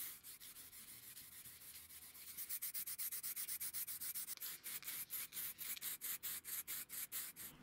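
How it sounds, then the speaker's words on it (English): Wet sanding a spray-varnished plywood armchair with 400-grit paper: soft, steady rubbing strokes that turn into a fast, even back-and-forth rhythm, heard close with no talking. "I did some wet sanding at 400 grit to denib the finish"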